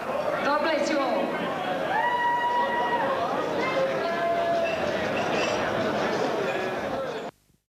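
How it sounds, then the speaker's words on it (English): A big crowd chatters at a Friday night boxing fight night in the Twin Towns Services Club, a loud, dense murmur of many voices that stops abruptly at the end. "Big crowd in attendance here at Twin Towns Services Club"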